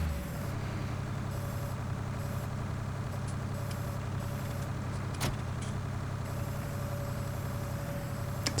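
Tractor engine in the Farming Simulator 19 game, a steady low drone running throughout with faint intermittent clicks and one sharp knock near the middle, no talk.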